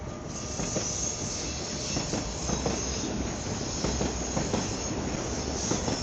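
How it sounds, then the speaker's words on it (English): A southbound city train rolls past with a steady rumbling wash of wheels on rail and faint metallic squeals, loud and continuous throughout, while insects chirp softly underneath. "Goes the southbound train."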